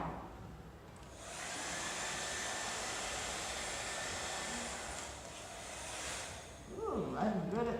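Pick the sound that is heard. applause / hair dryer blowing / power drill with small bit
hair dryer blowing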